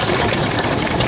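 A restored Fairbanks Eclipse stationary engine runs on petrol and has a fuel pump fitted. It gives a loud, steady mechanical chug with rapid repeating beats, close up and with no talk over it.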